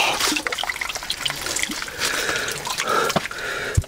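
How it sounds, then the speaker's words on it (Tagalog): Water drips from stalactites onto stalagmites inside a cave, with scattered echoing drops and a trickling wash against a steady background hiss. No one speaks. "dito yung mga stalagmites kung saan tumutulo rin yung tubig na dumadaloy papunta dito"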